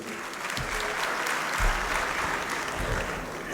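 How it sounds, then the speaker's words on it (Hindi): An audience at a poetry event honouring a poet's birthday breaks into applause, a dense, steady roomful of clapping with a few louder claps standing out. "बात सही हो तो तालियां बजाइएगा।"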